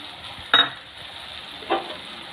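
Fried prawns being stirred with taro stolons in a pan: two short scraping stir strokes over a low steady sizzle, close and fairly quiet.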